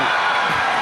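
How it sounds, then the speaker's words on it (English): Indoor boxing crowd at a title fight in a stadium, a steady loud roar of cheering and shouting that fills the whole moment without a break. "the crowd is going crazy"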